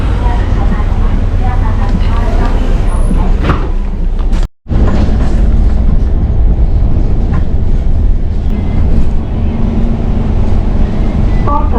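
A city bus pulls in at Rome railway station amid heavy, continuous engine rumble and street noise, with a brief cut of silence midway and a voice speaking over it.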